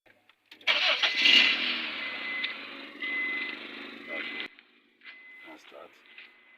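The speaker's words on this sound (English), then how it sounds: "Now it's time to go and start the car." A 2008 Honda CR-V after a spark plug fix starts with a loud crank that catches into a steady mid-pitched idle, close by, then cuts off. Brief noises follow.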